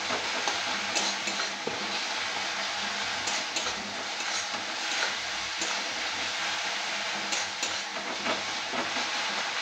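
Tomatoes frying in a pan for a peyaz recipe, cooked down until soft, give a steady, close sizzle that runs the whole time, with a few stirring scrapes rising above it.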